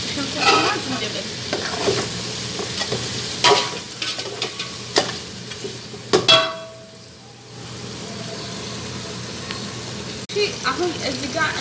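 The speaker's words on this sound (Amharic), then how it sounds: "ከዛ እዚህ ጋራ ቱም ዘንጅብል ነጭ ሽንኩርትና ዝንጅብል ጨመርኩ ማለት ነው።" Garlic and ginger fry in a pan with steady sizzling while a utensil scrapes and stirs, loud and close, with a brief quieter stretch midway before the sizzle and stirring resume.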